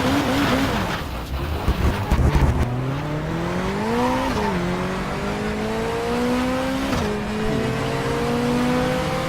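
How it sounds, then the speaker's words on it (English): A car engine in the racing game Race 07 revs hard through rising pitch sweeps, with brief tire squeal and skidding early, then repeated climbs as gears shift, loud and close. "I just love the engine sounds"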